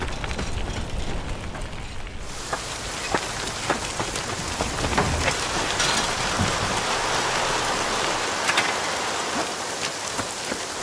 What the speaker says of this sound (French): Maintenant il pleut!